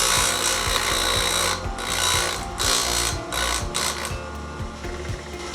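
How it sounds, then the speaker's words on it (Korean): Bench grinder grinding the uneven side surface of an electric bicycle handle grip, a steady motor whine broken by repeated rasping contact bursts and rhythmic knocks, fairly close. "탁상 그라인더를 킵니다. 여기 옆면에 대고 울퉁불퉁한 면을 갈아줍니다."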